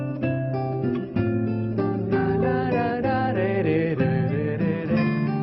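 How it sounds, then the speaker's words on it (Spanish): Nylon-string acoustic guitar playing a gentle melody with soft chords, warm and close, steady and alone without any voices. "La acústica es natural. Está hecha de palo, tiene cuerdas de nylon y suena así."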